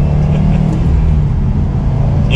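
A 2021 Subaru WRX STI Limited with a 4-cylinder engine accelerating, its steady, loud engine drone building smoothly under load during a test drive, heard alone without talk.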